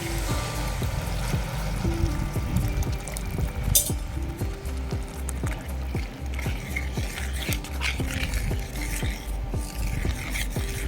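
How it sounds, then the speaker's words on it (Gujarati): Water pours into a hot pan of cashews, bubbling and gurgling steadily with a sharp sizzle near the start and occasional clinks of a utensil. "એક મિનિટ બાદ છે આપણે એમાં પાણી ઉમેરીશું"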